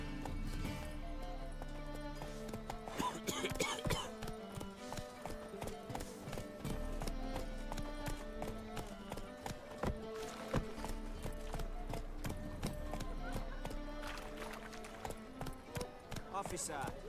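Horse hooves clip-clopping at a run in The Witcher 3: Wild Hunt, a rhythmic drumming of hoofbeats layered under game music and ambient effects, with a brief spoken exclamation over it.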